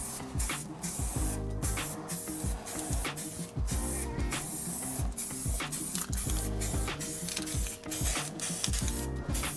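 A spray gun lays a fine coat of paint on a Mini Cooper body, giving a continuous, steady hiss with a rapid mechanical pulsing underneath, close and moderately loud throughout.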